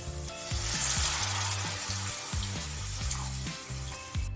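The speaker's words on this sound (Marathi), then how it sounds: "आता यामध्ये पाणी ॲड करूयात" A loud, steady sizzle of water hitting hot masala in a pan for a cabbage dish, with bubbling and crackling throughout, close up and without speech.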